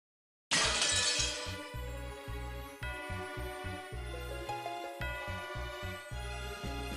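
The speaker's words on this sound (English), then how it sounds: "with that sound like a glass breaking, a new demon could be seen there" A sudden glass-shattering crash in the Umineko visual novel game, loud at first with a bright spray of breaking shards, then fading into a rhythmic, pulsing musical theme.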